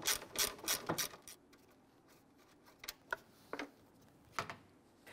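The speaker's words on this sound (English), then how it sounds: "I'm just going to use a 1/4" ratchet, loosen and remove this." A 1/4-inch ratchet working loose a headlamp bolt on a 2011-2021 Jeep Grand Cherokee, making scattered quiet clicking bursts with pauses between strokes, close and fairly soft, with no talking.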